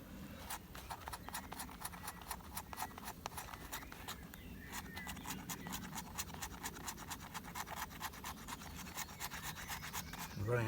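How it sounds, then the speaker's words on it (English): Fatwood is scraped with a blade in a woodland camp to make shavings for catching a spark, a steady run of quick, close rasping strokes repeating at a brisk even rhythm throughout. "Just a bit of fat wood here I'm scraping."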